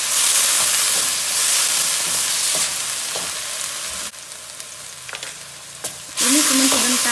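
Binahong leaves frying in a pan while being stirred, a steady broadband sizzle with occasional scraping strokes, dropping briefly quieter before the loud frying swells back near the end.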